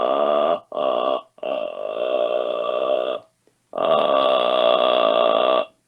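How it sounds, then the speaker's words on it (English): A man demonstrates a thick, low, creaky vocal fry, sustaining slow pulsing phonation in several long bursts separated by short pauses, close and loud with no other sound. "let me try and get a good impression of that thick and meaty M0 vocal fry."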